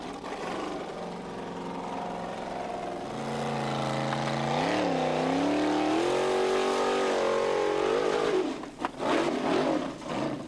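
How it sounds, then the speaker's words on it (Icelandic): A powerful race car in a rally-style event in Iceland revs hard, its engine note climbing, dipping and climbing again for several seconds before breaking into rough bursts as it pulls away. "Það er óheimju kraftur í bílnum hjá honum."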